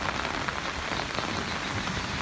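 Heavy rain pours steadily onto surfaces during an hour-long downpour, a dense, even hiss close by, with no voices.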